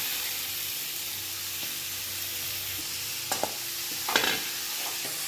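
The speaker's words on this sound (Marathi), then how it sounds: "आता यामध्ये हे लौकी घालून घेते." Grated bottle gourd sizzling in hot oil with onion, chili powder, salt and turmeric, a soft steady fry with a few stirring scrapes and clicks near the end, quiet and close, with no talk.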